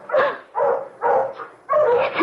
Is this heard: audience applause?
no